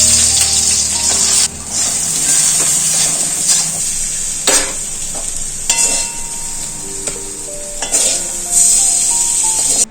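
Bitter gourd fries in a pan with a constant loud oil sizzle, broken by a few sharper scraping stirs and brief clinks of utensil on the pan, close and without speech.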